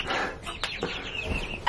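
Two broody hens sharing a nest cluck softly and murmur, low continuous fowl chatter heard close up with faint background noise.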